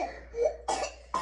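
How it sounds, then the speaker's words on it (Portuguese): A young child coughs on a sofa indoors, a couple of sharp, close bursts after a softer throaty sound, with no talking. "Ele tá tossindo muito, gente."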